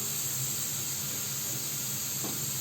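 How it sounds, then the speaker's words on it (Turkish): Steady broadband hiss and rumble of water boiling, continuous and unbroken, with a faint low bubbling underneath and no voices. "Suyumuz da çok güzel kaynıyor"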